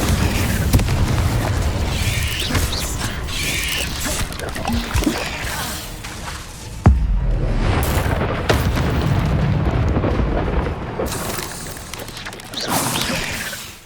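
Spell blasts and explosions from the Hogwarts Legacy video game: dense, loud booming bursts with crackling and rumble, a sharp impact near the middle and repeated blasts throughout.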